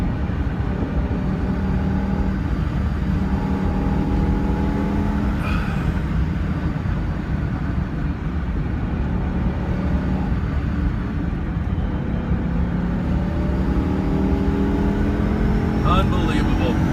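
A BMW M5 E60 engine runs hard on a mountain drive, a steady, loud mechanical roar that holds with shifting tones throughout, with a voice speaking over it.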